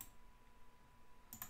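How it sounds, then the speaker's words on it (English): Super and number keys pressed on a computer keyboard produce a quiet, close double key click near the end of an otherwise near-silent moment. "I'm clicking super and numbers"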